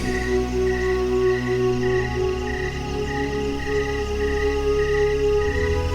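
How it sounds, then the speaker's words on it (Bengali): Crickets chirping at dusk in a garden, a steady pulsing chorus of short, evenly spaced chirps that continues throughout, moderately loud, with no voices. "রাতে ঝিঝি পোকারা ঝিঝি করে ডাকা শুরু করে দিয়েছে"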